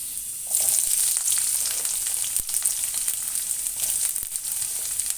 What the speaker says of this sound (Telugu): ఇప్పుడు ఇందులోనే కొంచెం ఉల్లిపాయలు వేసుకుందాము.